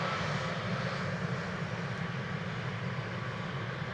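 Airliner engines roaring steadily as the jet brakes after landing at Amsterdam Schiphol Airport, a loud continuous rumble with broad hiss heard from nearby, no voices.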